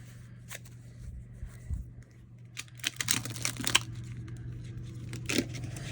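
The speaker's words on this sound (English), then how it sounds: "Sometimes they're a little awkward to shuffle." Small mini oracle cards are shuffled in a few short riffling bursts with soft flicks and rustles, close by and otherwise quiet.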